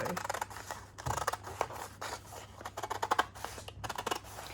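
Scissors cut away a piece of fabric while sewing, producing a quiet series of rapid, uneven snips and rubbing blade sounds, close up and alone, with denser clusters of cuts toward the middle and end.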